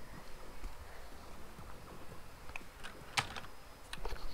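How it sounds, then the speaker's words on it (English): Light, scattered keystrokes on a computer keyboard click faintly and close by, with a few sharper taps, during a VR gaming session. "that's my keyboard"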